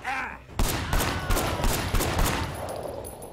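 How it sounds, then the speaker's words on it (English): Gunfire in the video game Sleeping Dogs, a rapid burst of about seven sharp, loud shots in an even rhythm, each followed by a short reverberant tail, then fading. "There's a third person shooting at me."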